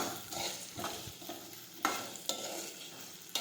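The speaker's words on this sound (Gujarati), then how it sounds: "હવે આપણે સાતળી લઈશું. આ રીતે આપણે સાતળતા જઈશું." Okra (bhindi) sautéing in a pan, a steady soft sizzle with intermittent scraping stir strokes and a few sharp clinks of the spoon against the pan, close and moderately quiet with no talking.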